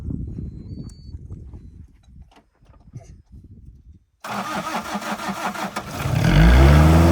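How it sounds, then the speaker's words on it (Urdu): A car engine in the Cholistan desert cranks and catches after quiet rustling and wind, then settles into a steady loud idle that swells into a deeper rumble, heard close with no talk. "گاڑی سٹارٹ ہو چکی ہے جی."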